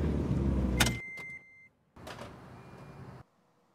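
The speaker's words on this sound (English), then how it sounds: "I just put my car in reverse and then I put it in park again" A car shifts into reverse and back: a loud mechanical clunk over the cabin hum, then a brief steady tone, and a second shorter burst of mechanical noise up close, with no talking.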